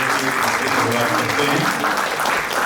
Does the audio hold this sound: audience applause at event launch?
yes